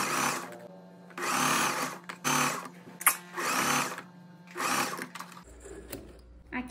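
A sewing machine stitching a blouse seam with a one-centimetre margin, running in about five short bursts separated by pauses, fairly close and clear.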